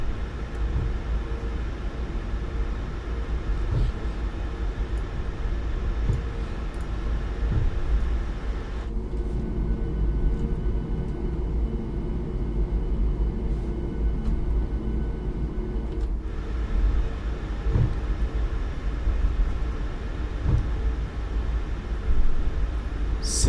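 A Ryanair 737 MAX rolls for takeoff in Microsoft Flight Simulator 2024, giving a steady broadband engine roar with a deep low rumble that continues evenly throughout, unbroken by talk.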